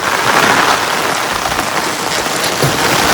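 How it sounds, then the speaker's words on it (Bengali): Rain pours down steadily, a dense, continuous hiss of drops striking surfaces nearby, loud and unbroken with no talking. "গাইস বৃষ্টি পড়া স্টার্ট"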